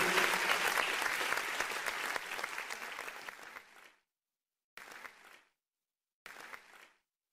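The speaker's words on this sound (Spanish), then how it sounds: "Dele palmas al Señor" A church congregation claps during worship, with loud, sustained applause that tapers off, followed by two short separate bursts of clapping after brief silences.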